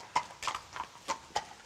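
A horse walking at a slow pace, its hooves striking in an even clip-clop rhythm of about five distinct, fairly close steps, faint and unaccompanied by voices.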